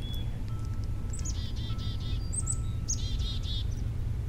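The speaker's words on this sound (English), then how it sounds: "the birds are out" Several birds chirp and trill in short, bright bursts by the sea, over a steady low hum of background noise, fairly close and clear.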